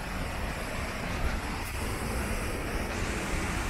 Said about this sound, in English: now we're at a waterfall.